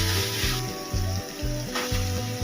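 Chicken pieces stirred and frying in ginger garlic paste for a Madurai-style chicken chukka, a steady close sizzle with rhythmic scraping strokes of a spoon every half second or so, under soft background music.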